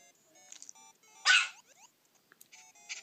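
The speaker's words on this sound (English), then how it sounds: "He is a toy poodle." A toy poodle in the Nintendogs video game gives one loud, bright bark in the middle of a quiet stretch, with fainter yips and small electronic sounds around it.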